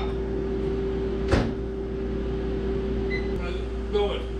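A microwave oven hums steadily as a door clunks open once, followed by a softer knock and light handling sounds while the appliance keeps droning nearby.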